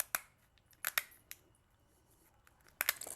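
Pampered Chef kitchen shears snipping down the middle of a lobster tail shell, a handful of sharp crisp clicks and crunches spaced irregularly, close and fairly quiet with no talking.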